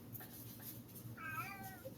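A kitten gives a single short, faint meow close by, rising then falling in pitch, after a few soft ticking sounds in a quiet room.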